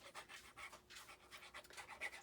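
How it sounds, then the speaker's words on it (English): Dogs roaming around a room pant in the background, a quiet, rapid rhythmic huffing that continues steadily throughout with no voices. "Sorry if you hear dogs in the background."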